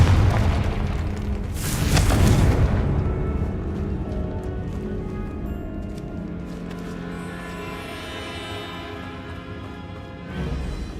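Confringo fire spell in Hogwarts Legacy, a loud booming explosive blast around two seconds in that rolls off into a fading rumble, with game sound effects continuing after.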